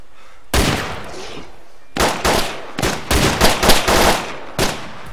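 Rifle gunfire in the DayZ survival game, a loud opening shot followed by a rapid cluster of overlapping cracks from several shooters in a firing line, ending with one last separate report.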